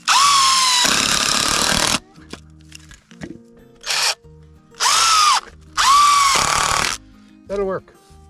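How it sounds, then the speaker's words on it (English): Cordless drill driving screws into a 2x4 at a boat house deck corner, several loud whining bursts of a second or two each with pauses between, quieter shuffling and a short voice between bursts. "So I also have a couple of screws here I would like to put in here."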